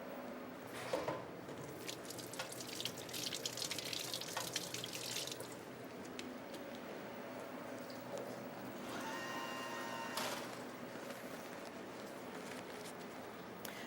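Vegetables with tops and roots removed being rinsed under a running kitchen tap, water splashing and gushing in uneven bursts with squishy handling sounds and a louder stream near the end.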